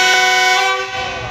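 A GEU-40 diesel locomotive hauling the Hazara Express sounds its horn while departing Karachi Cantt station, a loud sustained chordal blast that cuts off and leaves low rumbling engine noise.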